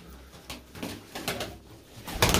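A breeder's domestic pigeons coo in a loft, soft low cooing calls in short bursts close by, with a brief rustle or knock near the end.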